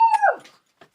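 A dog gives a short howling "aroo" as she comes back indoors, a rising-then-falling wavering cry lasting under half a second, close and fairly loud, followed by a couple of faint small noises.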